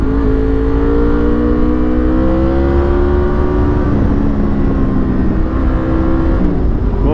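Honda VFR motorcycle engine on mountain roads, a loud close, continuous buzzing drone with rising and falling pitch as the rider accelerates through the bends, under steady wind rush.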